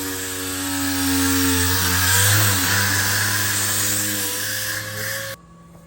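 A power sander grinds steadily on a Peterbilt truck's metal frame with a loud, even hum and hiss for about five seconds, then cuts off abruptly.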